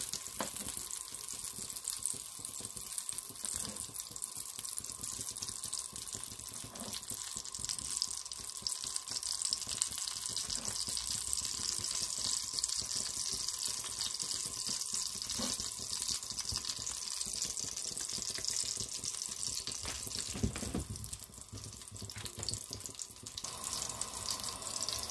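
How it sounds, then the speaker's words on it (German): Kaiserschmarrn pancake batter poured into a hot pan fries with a steady, hissing sizzle that holds at a constant level throughout, with a faint crackle and no voices. "So, unsere Pfanne ist jetzt schon heiß genug und jetzt geben wir unseren Teig hinzu."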